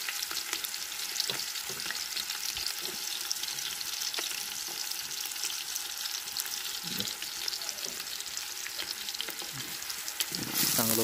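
Onions fry in a pan until golden, giving a dense, continuous sizzle with occasional scraping stirs, close and fairly even throughout.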